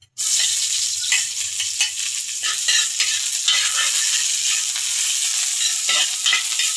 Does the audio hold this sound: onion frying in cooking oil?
yes